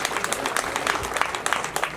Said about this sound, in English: we need to clap for His Excellency, the President of Uganda